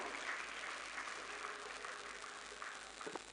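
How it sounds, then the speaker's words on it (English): Sustained applause from an audience at the opening ceremony of the 2025 Lagos International Trade Fair, a dense, steady wash of many hands clapping, moderately distant and continuous throughout. "Please don't stop clapping."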